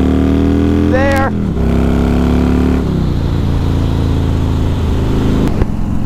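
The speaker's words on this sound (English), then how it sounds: "let's do a 0 to 60 run on this thing" A Harley-Davidson Softail with a six-speed gearbox accelerates hard from a standstill, loud and close, its engine revving up through rising gear pulls with brief drops at each shift before settling into a steady roar.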